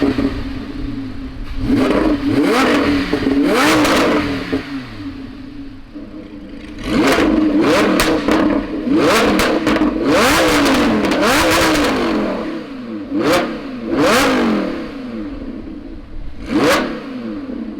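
A Lamborghini Huracan with a Ryft exhaust revs outdoors, loud and close, in repeated sharp blips and sustained roaring pulls, each ending in crackling drops, with no talk.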